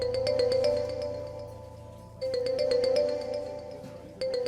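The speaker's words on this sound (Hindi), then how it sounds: "फोन बाद में सुन लेना प्लीज शाहनवाज, पहले मेरी बात सुनो" A phone rings in repeated electronic bursts with a short pause between them, fairly loud and close, with no talk over it.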